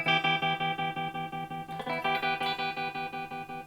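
Electric guitar chords run through a NUX Mod Core pedal set to square-wave tremolo, chopping the sound into rapid, evenly spaced on-off pulses about seven per second, sustained and alone with a brief strum change midway.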